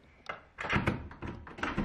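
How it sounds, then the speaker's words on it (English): A key turns in the lock of a hotel room door in Croatia, followed by several thunks and clicks as the door is worked open, close and fairly loud. "you have to unlock the door quite clearly"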